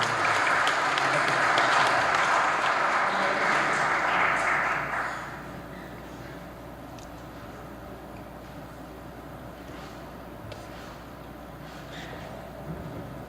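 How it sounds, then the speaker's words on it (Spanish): Loud audience applause fills a formal legal conference hall, a dense steady wash of many hands clapping that fades after about five seconds into quieter room murmur and scattered noise. "Un fuerte aplauso, por favor."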